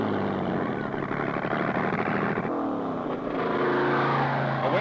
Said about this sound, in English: Using a push start, the streamliner gets underway.